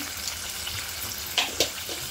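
Water being poured into a hot tempering for curd rice, a soft watery splash with a couple of brief sharp bursts partway through over quiet background hiss.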